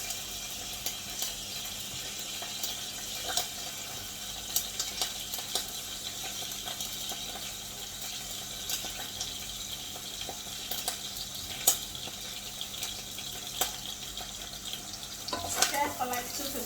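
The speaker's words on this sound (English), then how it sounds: "Okay, so that's my oil. I'm going to add all the onions." Onions hit hot oil in a pan and sizzle steadily, a broad close crackle that continues throughout with occasional clinks and stirring noises.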